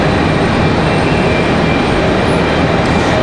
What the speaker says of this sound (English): Southwest 737 pushing back.